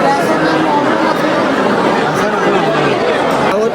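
Dense crowd chatter fills a busy ticket counter at Rameswaram, many overlapping voices close and loud, steady throughout with no single voice standing out.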